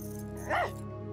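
A dog named Buster gives a single short bark or yip in an animated cartoon scene, heard clearly over a steady background bed.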